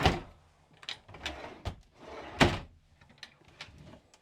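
Several wooden thumps and knocks of drawers or cupboard doors opening and shutting inside a 2024 Auto-Sleepers Broadway EB motorhome, irregular and close, with faint sliding sounds between.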